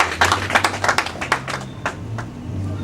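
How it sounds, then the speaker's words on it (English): An audience at an inauguration address claps in a brief scattered round, with distinct handclaps thinning out over a low background hum. "So please clap for him for leading it."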